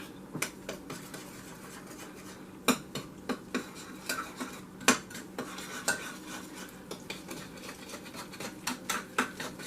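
A spoon stirs an egg and a third cup of milk into a tamale pie mixture in a bowl, giving repeated sharp clinks of utensil against the dish in an uneven rhythm, close and fairly loud with no talking.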